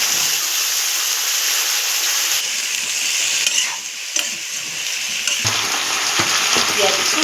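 Chopped vegetables hit a hot pan with fish, onion and five-spice, sizzling and frying loudly and steadily while being stirred, with brief scraping shifts in the crackle.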